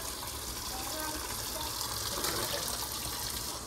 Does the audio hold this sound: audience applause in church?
no